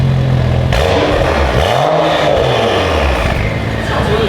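An engine fitted with a new aftermarket exhaust and downpipe revs up and down in loud, sweeping pulls, with a turbo whoosh riding on top and people talking nearby.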